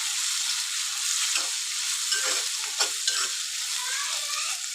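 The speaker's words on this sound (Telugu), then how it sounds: "ఇప్పుడు మనము పేస్ట్ చేసి పెట్టుకున్న పచ్చిమిర్చి పేస్ట్ కూడా ఈ ఆయిల్లో యాడ్ చేసుకోవాలి" Green chili paste sizzles steadily in hot oil in a pan with onions while being stirred for a thotakura fry, a loud, continuous close frying hiss.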